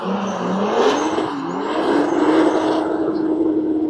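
A BMW M2 engine roars at high revs with a whining, squealing edge as it drifts through a turn on a track, loud and close.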